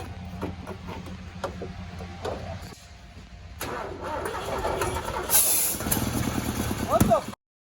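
Old truck engine cranking and starting with the carburetor held wide open, a rough rumble building to louder revving near the end, with people talking over it.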